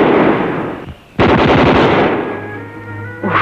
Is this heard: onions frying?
no